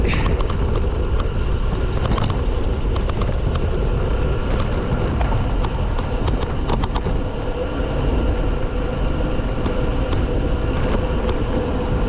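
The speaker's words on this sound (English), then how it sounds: "Bit windy." Constant loud wind roar buffeting the microphone while cycling a road descent, with a steady rumbling rush throughout, as when moving fast downhill.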